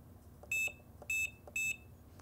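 Three short, high electronic beeps evenly spaced about half a second apart come from the button control panel of a George Knight DK3 mug press as its timer is adjusted, clear against a quiet room with no talking.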